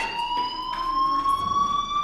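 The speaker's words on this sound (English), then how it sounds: "do you hear that fire alarm?" Steady high electronic fire alarm tone in Life is Strange Remastered, continuous and slowly rising in pitch with layered harmonics, loud and close with a faint background hum and no talk.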